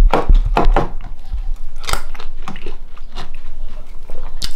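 Someone eats a meal up close, with crunchy bites and wet chewing sounds arriving in irregular bursts, loud and intimate, with no talking over them.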